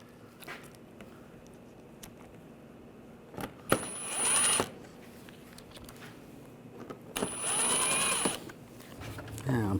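Power driver whirring in two short bursts while snugging down screws on a 2009-2017 Volkswagen Tiguan during a transmission cooler replacement, with quiet shop background between bursts.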